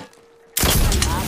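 Incoming gunfire in a video game erupts suddenly after a near-silent moment, a loud burst of rapid shots and crackling impacts that carries on to the end.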